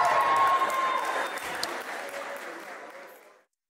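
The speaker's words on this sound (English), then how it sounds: "One more nice round of applause for them." Wedding guests at Larz Anderson applaud in a steady wash of clapping that slowly fades out to silence, with a few voices underneath.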